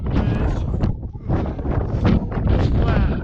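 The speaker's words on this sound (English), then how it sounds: "It's flat, windy up here." Strong wind sweeps across the flat summit of Mt. McLoughlin, a loud, continuous roar that buffets the microphone in rising and falling gusts throughout.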